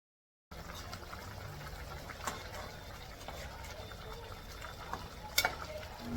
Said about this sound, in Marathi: भाजीला आपल्या छान अशी उकळी आलेली आहे.